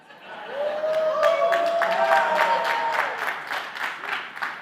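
Audience at a talk on social media growth breaking into applause, clapping swelling quickly and holding for a few seconds before thinning out, with some laughter mixed in.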